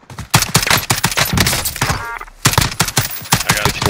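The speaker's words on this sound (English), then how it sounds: "I'm just shooting." Video game gunfire rattles in rapid loud bursts, dense volleys of shots with a brief lull in the middle before firing resumes.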